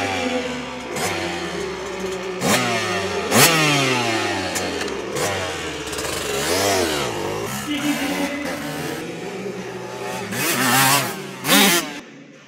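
A motorbike engine revs repeatedly at a school fun activity while children ride, with rising and falling pitch sweeps and loud bursts near the end, close and continuous.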